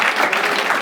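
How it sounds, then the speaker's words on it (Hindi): Brief burst of audience applause at a stand-up comedy show, dense, steady clapping filling the moment with no talk over it. "ताली बजा दो यार इसके"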